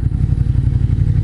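A motorcycle passes alongside on a mountain road near Mount Zao in Toyokawa, Aichi, its engine a steady low rumble close by and loud throughout, with some wind buffeting and no talk.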